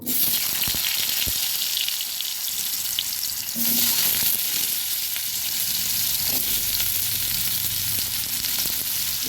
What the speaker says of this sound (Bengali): এবার আলুগুলো ভেজে নেব